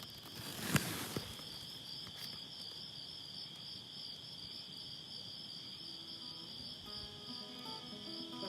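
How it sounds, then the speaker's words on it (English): Crickets chirp steadily outdoors at night on a ranch in Rancho Huasna, California, a faint continuous high trilling chorus with a brief knock near the start. "enjoy the sound of the crickets"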